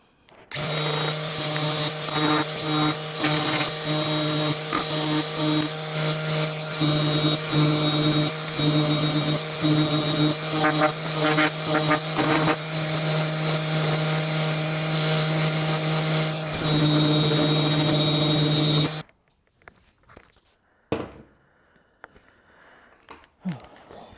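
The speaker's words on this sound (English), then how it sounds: "220 grit sandpaper and I'm going to do a nice light sanding on all surfaces" Light sanding of a wooden toilet paper holder with 220 grit sandpaper on a power sander: a loud, steady motor whine runs for about nineteen seconds, then cuts off, leaving faint handling clatter.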